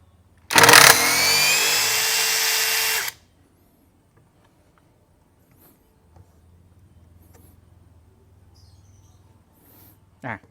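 An OSUKA OCID821 cordless impact driver in AI mode whirs loudly for about two and a half seconds while backing out a screw, then stops, followed by quiet handling noises and a faint chirp.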